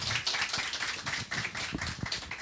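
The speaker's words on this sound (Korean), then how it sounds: "정수원 교수님 박수 부탁드립니다." An audience at an academic blockchain session claps for a professor, a moderate crowd of hands pattering steadily with a few sharper individual claps standing out near the end.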